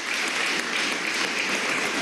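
A crowd applauds newly sworn-in ministers at a Venezuelan government swearing-in ceremony held in June 2017. The clapping is dense, continuous and evenly loud, with no voices rising above it.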